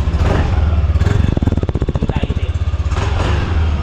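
Yamaha Aerox 155 scooter engine running, a steady near engine hum with a brief rise in rapid pulsing in the middle, heard under continuous talking.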